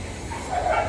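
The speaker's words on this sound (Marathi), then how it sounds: "खाली आपले कुत्रे भाऊ आहेत, ते भुकतायत" Dogs bark in the morning from below, near a railway line. It is a brief, moderately faint burst of barking over a low background hum.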